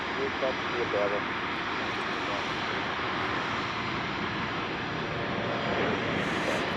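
Jet airliner on approach to Chicago O'Hare, an American Airlines flight arriving from LAX, heard as a steady broadband engine roar that holds at even loudness throughout, with outdoor wind and some voices underneath.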